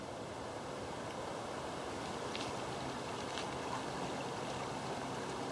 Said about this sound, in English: We have reached a creek.